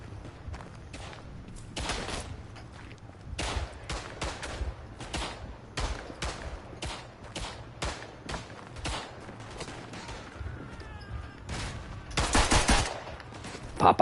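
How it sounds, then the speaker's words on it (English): Rapid bursts of machine pistol fire in a World War One Western Front video game, some short and some longer, loud and close, with footsteps and thumps in the gaps and a heavier, sustained volley near the end. "That's what it gets for walking into my machine pistol."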